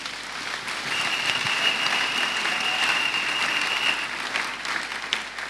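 A church congregation applauds together in a worship service, a dense, steady burst of clapping from many hands that fills the room for several seconds before tapering off.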